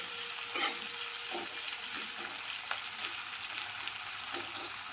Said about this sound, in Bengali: এবার পেঁয়াজটা একটু ভাজার জন্য অপেক্ষা করব।